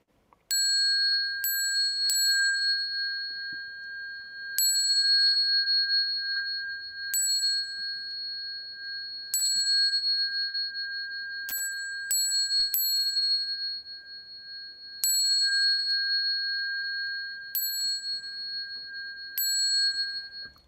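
A small bell struck at a Buddhist Dharma lecture gives clear, bright chimes over and over for about twenty seconds, each ring holding a steady ringing tone between strikes, in an otherwise quiet room.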